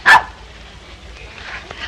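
A single sharp bark from Lassie, a dog, near the start, loud and close, followed by quiet room tone with faint background murmur.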